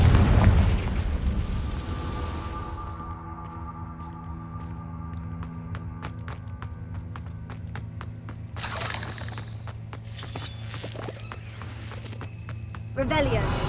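Confringo fire spell blasts in the Hogwarts Legacy video game, a heavy boom opening the clip followed by crackling debris, with further sharp bursts near the end over a sustained low rumble and game music.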